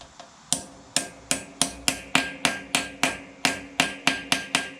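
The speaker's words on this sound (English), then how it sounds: "Let's get a hammer." A hammer strikes a stuck bolt on a Craftsman LT2000 lawn tractor during an engine repower, about fifteen sharp metallic blows at a steady, fairly quick rhythm, close and loud with no talking.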